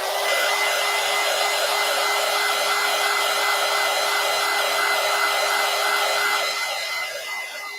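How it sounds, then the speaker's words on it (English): A hair dryer blows steadily on a collage art journal page, a loud continuous whirring hum with a faint warble that holds for nearly the whole stretch, easing slightly at the very end. "Now let me continue to dry for just another minute."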